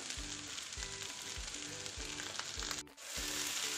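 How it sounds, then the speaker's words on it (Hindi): Potatoes frying with spices and green coriander while being pressed down in the pan, giving a quiet, steady sizzle with soft repeated low thumps and a brief dip near the end. "अब हम अपने आलू ये इस तरह से दबाते हुए अच्छे से भून लेंगे ना 2 से 3 मिनट"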